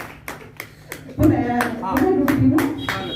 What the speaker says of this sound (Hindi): हम लोग एक साथ तालियां बजा रहे हैं